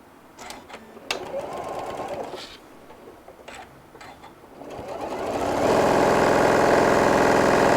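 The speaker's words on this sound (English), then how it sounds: "I'm going to sew my 1/2 inch seam allowance all the way down" A sewing machine stitches a half-inch seam on a brim hat, with short bursts of handling and fabric rustle first, then a loud, steady mechanical whir running for the final two seconds.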